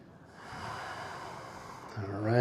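Deep, steady breathing from yoga class participants, a long broadband exhale lasting a couple of seconds, followed by a louder low voiced sound at the end.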